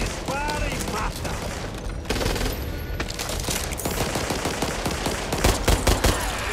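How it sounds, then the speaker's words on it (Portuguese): Rapid automatic gunfire bursts and scattered shots from the Back 4 Blood shooter on PlayStation 5, loud and dense throughout, with in-game talk and booms mixed in. "Ele mira, dispara e mata."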